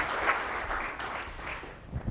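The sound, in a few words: audience applause at breakfast meeting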